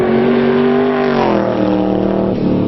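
Battle Snake off-road car engine revving hard under throttle, a loud, continuous roar whose pitch climbs and then shifts partway through, with no talk over it.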